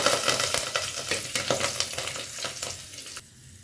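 Mustard seeds, two short dried chillies and cumin crackle loudly in hot tempering oil, with dense popping and sizzling that fades sharply near the end.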